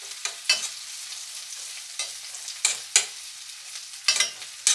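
Frozen jackfruit with mushrooms cooking in a frying pan, a soft steady sizzle punctuated by several sharp spatula scrapes and stirring strokes at irregular intervals, close and without talk.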